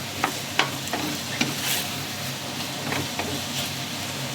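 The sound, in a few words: vegetables stir-frying in a pan for sweet and sour pork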